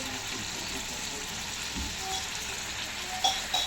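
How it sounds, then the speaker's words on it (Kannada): Marinated fish pieces coated with lemon juice and ginger-garlic paste fry in a pan, a continuous close sizzle and crackle with a few faint clinks toward the end, no talking. "ನೋಡ್ರಿ ಎಷ್ಟು ಚಂದ ಫ್ರೈ ಆಗತ್ತೆ"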